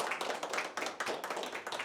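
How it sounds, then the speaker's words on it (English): An audience claps at an alumni talk event in Almaty, a short burst of brisk, fairly close clapping from a small crowd with no cheering. "Give it applause to Yerkebulan Saparov."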